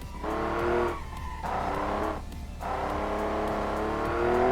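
A simulated V12 engine in the game Automation, from a 1982 Viper concept car, drones and revs continuously, with gear shifts breaking the pitch and tires squealing, close and loud throughout.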